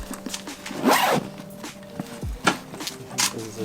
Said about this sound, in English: There's a zipper.